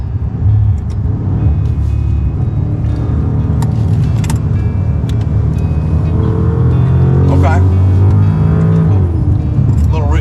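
Maserati Ghibli Trofeo engine revving after a downshift, a steady loud engine drone with rising and falling rev sweeps toward the end, under someone talking.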